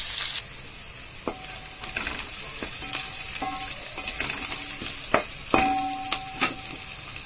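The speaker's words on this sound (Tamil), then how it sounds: "இந்த டைம்ல தக்காளி சேர்த்துட்டேன். கொஞ்சம் வதங்கி வரட்டும்." Tomato and curry leaves sauté in a hot oiled pan, a steady close sizzle and crackle with scattered clinks and scrapes of a spoon stirring throughout.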